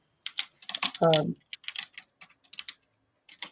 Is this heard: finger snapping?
no